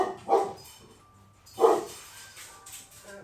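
A pet dog barks in two short bursts at home, reacting to dropped cat food, with a quiet gap between the outbursts.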